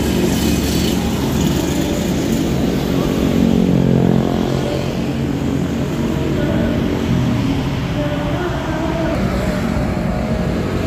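Heavy road traffic including a large intercity bus passing near the Sudiang airport underpass in Makassar, a steady loud engine rumble and tire roar that swells and eases across the stretch without any voices.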